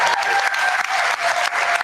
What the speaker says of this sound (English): Can we give one more round of applause to all of our volunteers of the year?